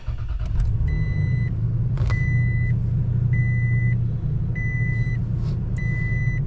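A 2022 Toyota Tacoma engine running with a steady low idle rumble after a push-button start, while a dashboard chime beeps in an even repeating pattern over it, no talking.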